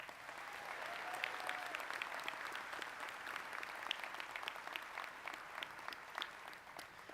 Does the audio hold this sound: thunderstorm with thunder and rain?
no